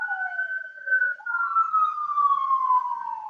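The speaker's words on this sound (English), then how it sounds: "there's a siren." An emergency siren passes outside, heard clearly in a quiet room as one long wailing tone that dips, then rises and slowly falls again, steady and moderately loud with no talk over it.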